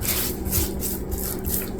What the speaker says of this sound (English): you want to rub these seasonings down into the meat